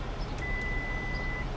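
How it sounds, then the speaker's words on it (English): A single short electronic alert tone from a 2015 Toyota Sienna XLE's rear cross traffic and blind spot system sounds faintly, holding steady for about a second over low background hum. "an audible alarm which just went beep"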